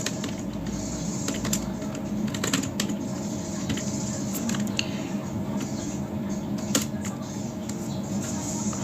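Typing on a computer keyboard: scattered light key clicks and taps, close but fairly soft, over a constant low background hum.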